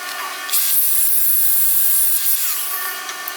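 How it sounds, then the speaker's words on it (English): An angle grinder bites into the metal of a car subframe on a Firebird, giving a loud, steady, high-pitched whine up close that runs for about two seconds, then cuts off. "So I'll get the grinder up."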